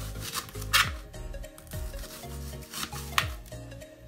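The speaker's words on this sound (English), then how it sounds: "now it's time to chop up the red onions" Red onions being cut into rings make repeated knife strokes against a board at an uneven pace, close and fairly crisp, with a few louder chops and no speech.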